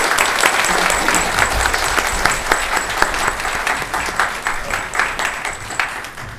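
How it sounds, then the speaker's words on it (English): Audience applause fills a county board of commissioners meeting, steady dense clapping throughout that thins and becomes more scattered toward the end, with no talk over it. "Let's give him a round of applause, please."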